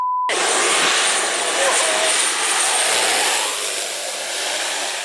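An airplane making a very low landing passes overhead with a loud, broad jet roar that holds steady for several seconds right after a brief tone, with a faint voice beneath it.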